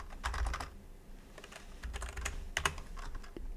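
Someone types on a computer keyboard while noting down stats, in uneven bursts of close, crisp key clicks with short pauses between runs.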